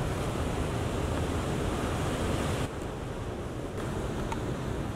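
Rough sea waves surge and wash steadily against the shore at a garrick fishing spot, a dense continuous roar of surf mixed with wind buffeting the microphone, briefly easing midway before building again.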